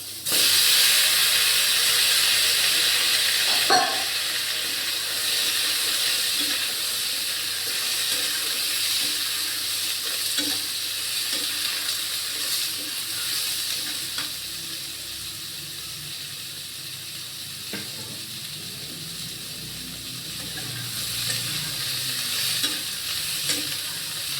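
Boiled potatoes and ridge gourd tipped into a hot pan of oil, a steady sizzling hiss with stirring scrapes and occasional clinks, close and continuous.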